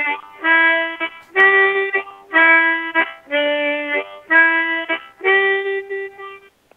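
Harmonica plays a blues riff, six phrased bursts of bright reedy chords with steady rhythmic breaks, played alone and close.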